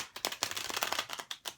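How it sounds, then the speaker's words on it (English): Tarot cards shuffled by hand in a quick run of crisp riffling flicks and taps, close and fairly soft, with no talking. "I am going to shuffle these cards once more"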